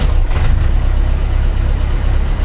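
A car engine idles at about 1000 RPM, a steady low rumbling hum, close and loud with no one speaking.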